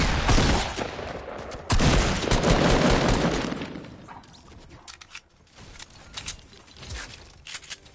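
Shotgun gunfire in a video game: heavy, loud blasts at the start and again a moment later, followed by quieter clattering and scattered game noises.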